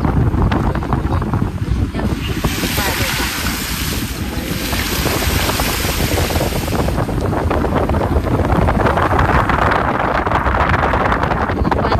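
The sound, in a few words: heavy rain from a cloudburst, flooded road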